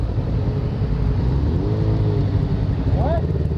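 A motorcycle with a throttle fault drones steadily nearby under wind noise, with a couple of brief rising rev swells toward the end; a voice talks over it.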